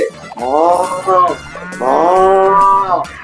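A man imitates a cow with two long, loud, drawn-out moos in a Tamil comedy sketch, each call rising and holding steady before trailing off.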